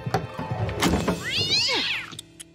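An animated cat in a Peter Rabbit cartoon lets out a drawn-out, rising-and-falling meow near the middle, loud and close, with light thumps and rustling around it.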